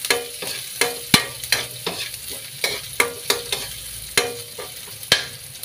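Onion and ginger sautéing in a hot pan, a continuous sizzle broken by regular sharp scrapes and taps of a utensil stirring, close and moderately loud, with no talking.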